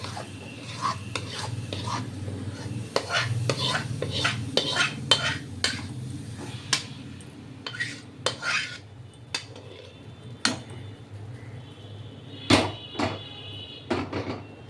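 A spoon stirs khoa and mango juice in a pan, giving repeated close scrapes and metallic clinks against the metal in an uneven rhythm over a soft low hum.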